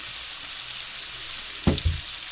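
Tomatoes hit a pan of golden brown garlic with a sudden loud sizzle, two quick bursts of frying over a steady low background hiss.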